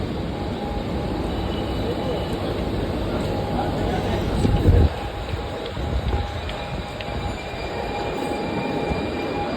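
A train pulls into CST station with a loud, steady rumble of wheels on rails and brief metallic squeals, heard up close from on board while voices murmur in the background.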